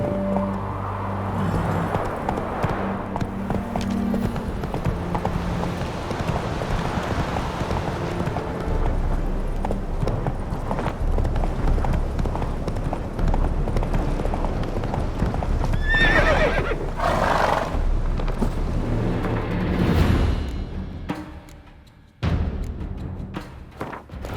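Roach, Geralt's horse in The Witcher 3, gallops with steady clip-clop hoofbeats and neighs near the end, all over loud game music and ambience with no talking.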